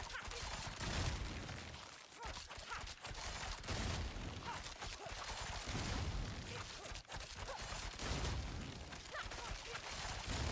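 Rapid automatic gunfire in a video game training area, a dense, continuous barrage of overlapping shots with only brief dips, steady and loud throughout.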